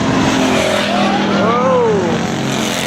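A race car spins out of turn 4 during practice on a track, its engine note sweeping up and down with a brief tire squeal, loud and close, with a voice faintly in the background.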